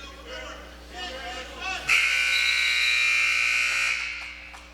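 A wrestling match period-end buzzer blares loudly and steadily for about two seconds before cutting off, following excited commentary from a commentator.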